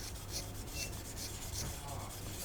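A blade scrapes back a seam on a plastic part of a Hasegawa Lancia Stratos HF Stradale model kit, a close, continuous soft rasping with quick repeated strokes.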